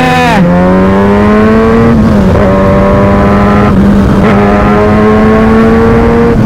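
A Kawasaki Ninja ZX6R with an SC Project exhaust screams at high rpm, very loud and close, its pitch dropping and climbing again across several gear changes.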